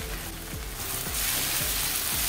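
Turmeric, red chili powder, garam masala and coriander-cumin powder fry in a pan for mushroom masala, giving a steady close sizzle with soft, rhythmic stirring scrapes throughout.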